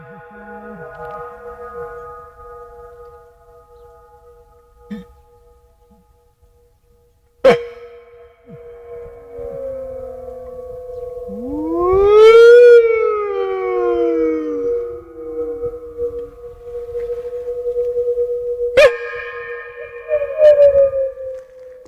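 Empty gas pipe giving off eerie, creepy tones: sustained hums with sharp knocks, then rising and falling sweeping whistles that bend upward like a siren, followed by another strike and ringing tones, fairly loud and alone.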